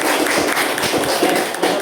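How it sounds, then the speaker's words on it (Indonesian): An audience at a group presentation applauds group 2, a steady close wash of many hands clapping for nearly two seconds with no talk. "tepuk tangan untuk kelompok 2"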